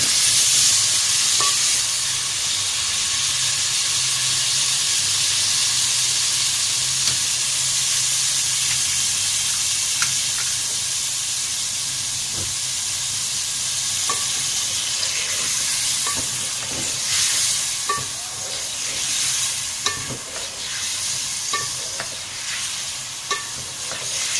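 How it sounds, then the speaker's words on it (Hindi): Raw mango pieces are stirred into spices frying in a pan for mango pickle: a steady, close sizzle with scraping spoon strokes and small clicks, with no talking. "थोड़ा सा हमें केरियाँ डाल के इस तरह चमचा चलाना है इसमें"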